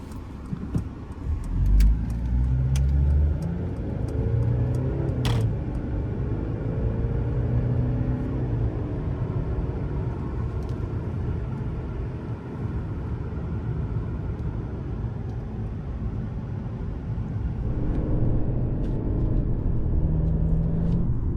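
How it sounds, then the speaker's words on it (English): A Mercedes C-Class car drives around Murter island in Croatia, its engine a steady low rumble with road noise throughout, close and continuous, swelling slightly near the start and end. "we are now driving"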